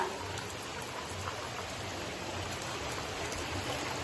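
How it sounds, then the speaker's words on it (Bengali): Rain pours steadily onto a rooftop in an even, dense hiss of drops, continuous and fairly soft, with no voices. "চলো বৃষ্টিতে ভিজে নিই একটু মজা করে নিই"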